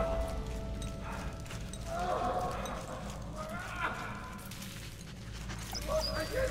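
A dog in the World War One video game Valiant Hearts barks and whimpers amid a steady bed of game sound and music, moderately loud and continuous.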